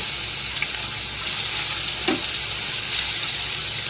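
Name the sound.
small fish (jagur, shing, koi) frying in hot oil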